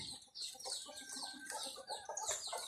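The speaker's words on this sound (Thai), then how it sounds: "นี่ไก่ติ๊กมันออกมานี่" Chicken clucking while foraging outdoors, a busy run of close, repeated clucks and short calls with continuous rural background noise, no talking.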